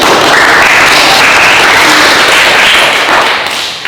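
Schoolchildren in a fifth-grade maths classroom clap together in one loud, dense round of applause that holds steady for several seconds, then eases off at the end.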